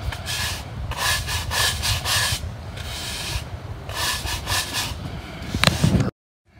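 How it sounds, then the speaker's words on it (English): Dry absorbent gets scrubbed into a damp gas oil spill on the ground, a steady gritty rubbing in repeated strokes with short pauses, close and moderately loud, no talking. "put some dry stuff back in there, try to scrub it back in until all you have is dry"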